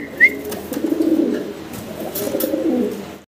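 Cream bar German Beauty Homer pigeons coo softly at close range, giving low rolling calls that repeat through a steady murmur of background noise.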